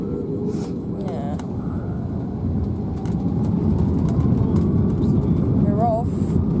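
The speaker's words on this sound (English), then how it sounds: "Oh, hang on, here we go. Immediate takeoff, I think." Airliner taking off at the start of a 7-hour-25-minute flight, heard from inside the cabin as a steady, loud low engine roar that swells partway through, with voices talking over it.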